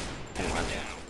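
Gunfire in the mobile shooter Point Blank: Strike, a short burst of rapid shots that swells and fades within about a second, close and moderately loud.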